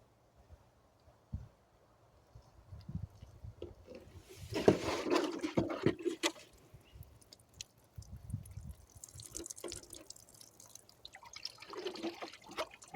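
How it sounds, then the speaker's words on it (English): Water pours and drips while plants such as hydrangea are watered in a home garden, with irregular splashes and trickles, one louder gush in the middle, fairly quiet overall. "let me water this plants first"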